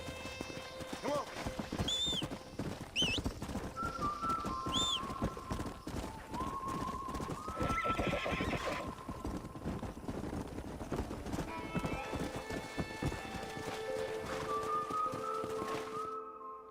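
Horses in Red Dead Redemption, with steady clip-clopping hooves throughout and several whinnies scattered across, under intermittent talk and a light background melody.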